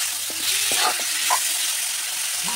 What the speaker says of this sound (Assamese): আৰু অকণমান লৰাই দিম